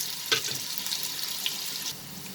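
Potatoes frying in hot oil over a high flame for a prawn and potato curry, a steady hissing sizzle with a few sharp crackles and pops, close and fairly loud, with no talking.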